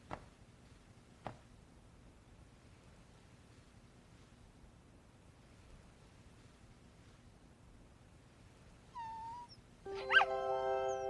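A dog whimpers and yips in a Korean drama scene: near-silence with a few soft knocks, then a short high whine and a cluster of yips and whimpers close by in the final two seconds.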